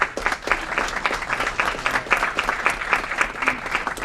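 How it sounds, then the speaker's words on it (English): Applause fills a community committee meeting room, a dense steady patter of many hands clapping together at moderate loudness for the full span, without a clear voice over it. "Another round of applause for our community events team."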